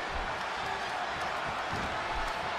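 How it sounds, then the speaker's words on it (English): A wrestling arena crowd at an I Quit match cheers in a steady, dense roar, broad and sustained with scattered claps and shouts rising from the mass. "Would you listen to this crowd show their appreciation for these amazing competitors?"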